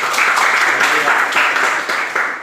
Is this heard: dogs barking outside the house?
no